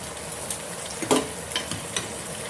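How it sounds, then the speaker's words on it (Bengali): Spices being stirred as they fry in oil for bhuna khichuri, a steady soft sizzle with a few light scraping stirs and taps, close and without talk. "মশলাটিকে ভালো মতো মিশিয়ে নিতে হবে"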